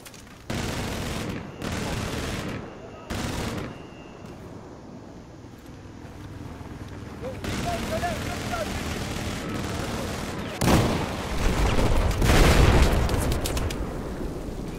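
Combat in the video game Battlefield 4, with loud bursts of gunfire and heavy booming blasts from tank fighting that come in clusters and build toward a dense barrage, while a player talks over them.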